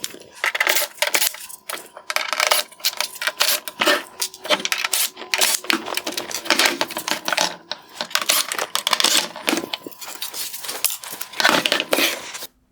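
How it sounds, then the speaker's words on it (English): Phillips head screws being backed out of the lens perimeter on a 2019-2021 Toyota RAV4 Hybrid LED headlight, a dense run of close, sharp clicking, ticking and rattling bursts that keeps going throughout with no talking. "I will begin by removing the Phillips head screws."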